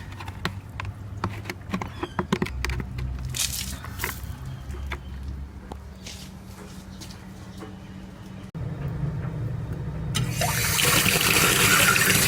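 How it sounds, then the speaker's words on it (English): Tap water runs into a garden bucket outdoors, a steady broadband rush with scattered splashes and knocks, rising to a louder, brighter gush near the end as the bucket fills. "Fill up the bucket."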